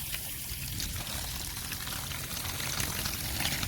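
Water pours and splashes steadily out of a van window's drain holes in a continuous gushing stream, fairly close by.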